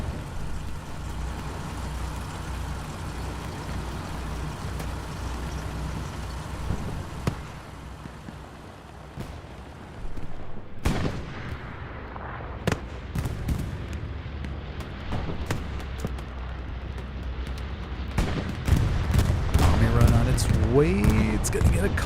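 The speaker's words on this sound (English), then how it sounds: "Counter bombing run from the Allies." An Allied bombing run in the World War II shooter Hell Let Loose, on the Utah Beach map, brings a series of heavy booms and rumbling blasts, some sharp and some distant. Gunfire crackles in the mix and the barrage builds toward the end, with a voice talking underneath.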